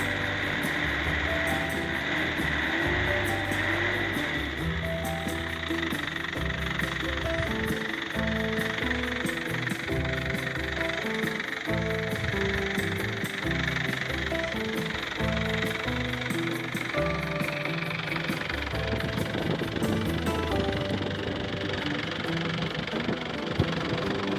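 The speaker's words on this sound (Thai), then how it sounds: "เดี๋ยวดูเครื่องยนต์สักหน่อยครับ" An Isuzu TFR diesel pickup engine idles with a steady, knocking rumble and rhythmic clatter throughout, close by and unchanging.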